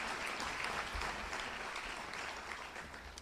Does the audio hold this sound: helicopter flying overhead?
no